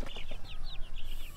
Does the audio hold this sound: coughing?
no